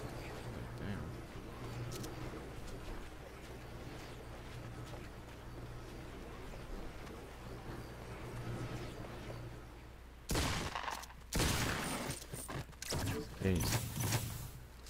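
Fortnite Battle Royale gameplay with bursts of gunfire and loud impacts crowding the last few seconds, preceded by steady low game ambience.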